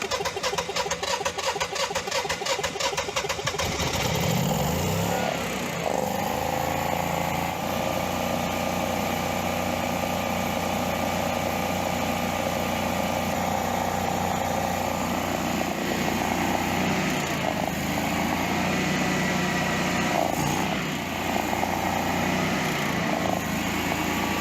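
A backup generator engine cranks with a rapid stuttering chatter, catches after a few seconds and settles into a loud, steady running drone close by that holds for the rest of the clip, with no talking.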